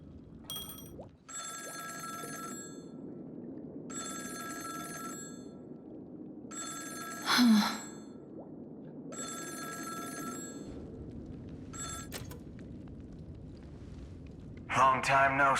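A telephone in the video game Honkai Star Rail rings in four evenly spaced electronic bursts separated by short pauses, over a low ambient hum, with a couple of brief louder sounds in between and at the end.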